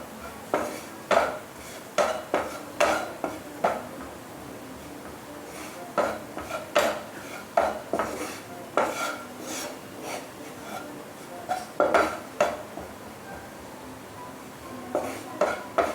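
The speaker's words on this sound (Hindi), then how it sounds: "तो इसको हम थोड़ा फ्लेम कम कर देंगे और अच्छे से भून लेंगे घी में।" Wheat flour roasting in ghee in a pan over a lowered flame, with a spoon scraping and clinking against the metal in irregular strokes, close and fairly quiet, no talking.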